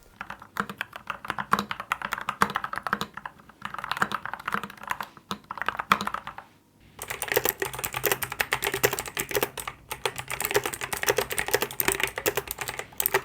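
Steady typing on a custom-built mechanical keyboard, rapid clacking keystrokes with a short pause midway, close and alone.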